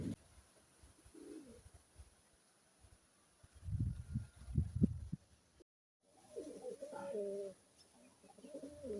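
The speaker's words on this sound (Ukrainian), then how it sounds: "Там зліва голубка сидить. Висиджує знову малих." Soft cooing from a nesting female pigeon in short low bursts, fairly close, with a steady faint background hum and a brief dropout midway.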